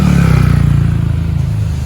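A bored-up Honda Vario 125 scooter fitted with an RX7 Racing block idles and revs nearby, its low, throbbing engine note pulsing steadily for about two seconds with a rattly, mechanical edge.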